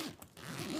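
A zipper on a fabric travel bag gives a quick, close, quiet rasping pull that lasts under a second.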